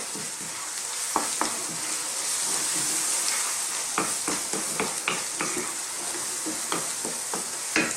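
Coriander and chili powder being stirred into a hot, sizzling chili masala for an Indian fish fry: a steady loud frying hiss with repeated scraping stir strokes, no talking.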